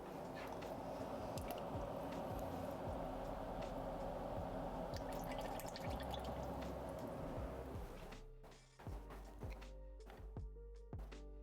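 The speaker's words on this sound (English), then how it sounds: "I'm just gonna go over now and pour the tomato juice in" Tomato juice pours into a pot of seafood chowder with a steady liquid glug and splash, ending in a few drips and squishy stirring sounds, close and fairly quiet.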